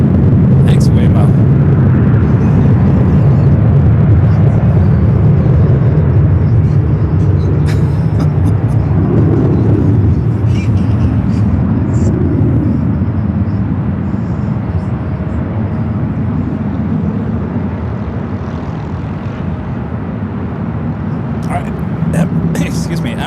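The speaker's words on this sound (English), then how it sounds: "Emirates making its way up here to the north side." An Emirates airliner taxis at LAX, a broad, loud jet rumble that swells and slowly fades. A voice talks over it.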